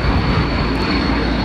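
A small airplane's engine drones loudly and steadily from inside the cabin during a coastal flight from Homestead, Florida to Fort Lauderdale, a constant close roar with no break.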